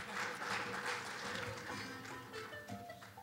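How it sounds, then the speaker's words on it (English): An audience applauds after a traditional African music performance at Creighton University, a moderate wash of clapping that swells early and then tapers off softly. "Give yourself a round of applause."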